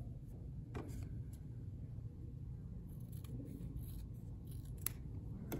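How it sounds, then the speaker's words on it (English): Scissors trim the fuzzy edges of fabric selvages, giving a few faint, sparse snips against a quiet low room hum. "You can trim off the little fuzzy edges if you choose to do so."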